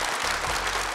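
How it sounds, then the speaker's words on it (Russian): Studio audience applause on a Kazakh TV show, a brief dense burst of clapping heard alone and steady at moderate loudness. "Аплодисменты, Арай."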